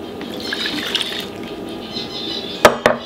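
Milk poured into a bowl for crêpe batter, a steady close liquid trickle with faint splashing, ending in two sharp knocks near the end.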